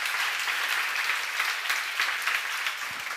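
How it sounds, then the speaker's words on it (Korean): Audience applause at a church seminar, a steady wash of many hands clapping together, moderately loud and sustained throughout. "박수 한번 쳐봐."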